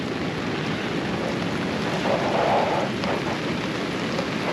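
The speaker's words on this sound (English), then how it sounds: "fairly substantial rain. All day." Steady heavy rain hisses continuously at a campsite at Marloo Bay on Fraser Island, dense and even, with a faint swell in the middle and no voices.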